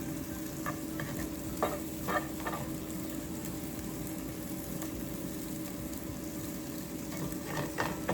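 Chorizo sizzles steadily with onions in a hot pan, a constant fine frying hiss broken by a few soft scrapes as the mixture is stirred, close and fairly quiet, with no talking.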